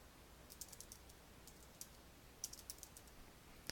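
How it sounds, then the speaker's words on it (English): Keystrokes on a cash register keyboard as an item name is entered, a quiet run of light, irregular clicks spread across a few seconds with a soft background hiss and no voices. "I can actually type in the item"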